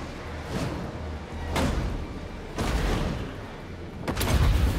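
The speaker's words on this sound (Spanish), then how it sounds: "¿Y si tiramos un cañonazo por aquí?" Cannon fire in a Total War fantasy battle plays as a series of deep booming blasts, three or four loud thuds spaced about a second apart over a rumbling battlefield din.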